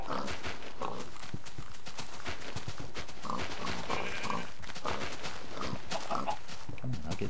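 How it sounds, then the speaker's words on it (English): Pigs oinking in the Minecraft video game, a few short grunts scattered through a busy stretch of in-game sounds with footstep-like clatter, loud and close, with no talking. "I hear pigs"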